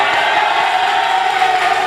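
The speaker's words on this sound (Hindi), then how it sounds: "बाबा जी के लिए पूरा मजमा तालियां बजाए" Dense crowd applause from a mushaira audience for an elderly poet, Al-Haj Baba Ji, a steady wash of many hands that stays loud and even for the full stretch, with no clear voices on top.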